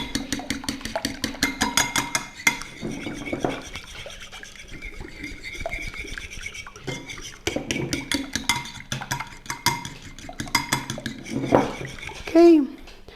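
Cake ingredients for orahovnjača, a traditional Croatian Christmas dessert, stirred by hand in a bowl, producing steady rhythmic clinks and scrapes with a spoken voice heard intermittently.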